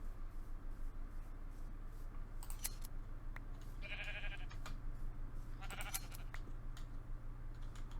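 Minecraft sheep bleat in short bursts, quiet against a steady low background hum.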